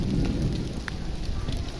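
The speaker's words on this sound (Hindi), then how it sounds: "ये देखें बादल गरज रहे हैं।" Rain pours steadily with a low rolling rumble of thunder beneath it, heard outdoors during a storm in Multan.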